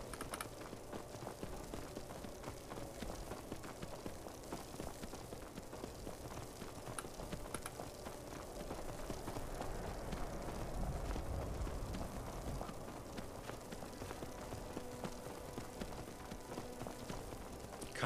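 Horse hooves clip-clopping at a gallop in Skyrim, a steady rapid rhythm of hoofbeats running throughout, set against a dense game soundscape of ambient music and environmental noise.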